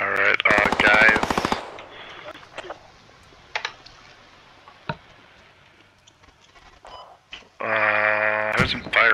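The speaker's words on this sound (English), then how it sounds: "There's some fire west of here, I don't know what that is." Video-game machine gun fire comes as a rapid, loud burst at the start and another near the end. Between them are quieter scattered clicks and thuds.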